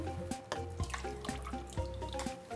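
A cup of water is poured into a mixing bowl as the first step of a yeast dough, a short close splashing pour with small irregular bursts and drips.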